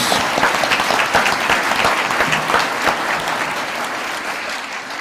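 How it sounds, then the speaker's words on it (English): Audience applause fills a live entrepreneur pitch show, a dense, steady roar of many hands clapping at close range, loud and continuous before easing slightly toward the end. "Let's give her a big round of applause, folks."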